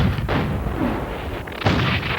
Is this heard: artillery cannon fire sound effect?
yes